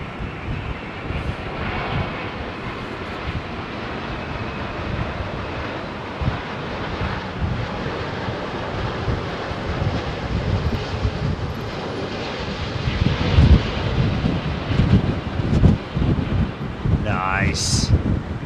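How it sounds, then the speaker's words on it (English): Stiff breeze gusting across an open airfield at Heathrow Airport, a steady broadband rush of wind buffeting the microphone throughout, with distant aircraft engine noise underneath and a brief higher tone near the end. "Look how stiff that breeze is, man."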